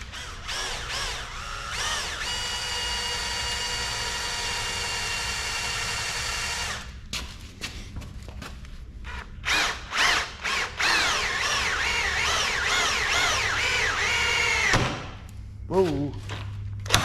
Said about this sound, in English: we're gonna use some new drill bits I got